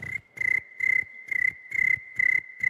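A mouth imitation of crickets chirping at night, a shrill pulsing trill in seven even bursts with brief gaps between them, close and clear with no talking.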